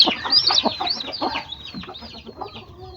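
An angry mother hen clucks close by in rapid, agitated bursts that soften and space out toward the end.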